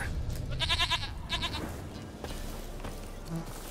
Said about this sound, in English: I hear bleating, which means there's a goat nearby.